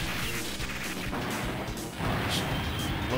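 Cannon blasts from the side-scrolling arcade shooter Metal Slug X, a dense burst of crashing, thwacking shots with whooshes, steady and loud through the whole stretch without any talk.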